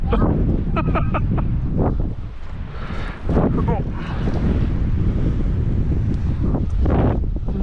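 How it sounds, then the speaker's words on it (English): Wind gusts across Cleawox Lake in Florence, Oregon, buffeting the microphone with heavy low rumbling on a fly fishing outing, while people talk intermittently over it. "Yeah, the wind is just a little bit."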